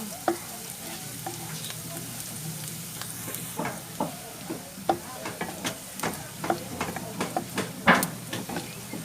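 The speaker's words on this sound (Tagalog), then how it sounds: "Sunod natin ang bawang. Tayo natin mamula ng bagya ang bawang." Garlic sautéing in a pan for ginisang labanos, a steady soft sizzle broken by repeated scraping and clinking stirs at an uneven rhythm, heard up close with no talking.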